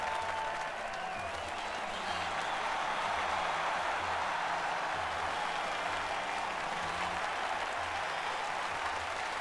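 Crowd applause and cheering at the podium after a Malaysian Grand Prix in the racing game F1 2014, a dense steady roar of clapping that fills the whole stretch at even loudness without a break.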